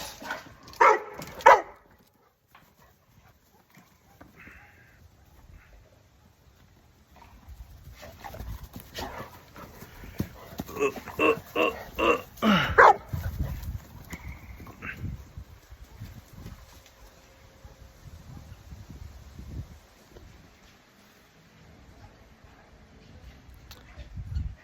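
Dogs bark in scattered bursts, with whimpers and panting between, some yelps close and others farther off, spread over a long stretch with quiet gaps.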